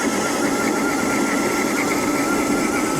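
Electric Crazy Cart running on 48 volts, a steady high-pitched motor whine with even hiss, loud and close, no talking.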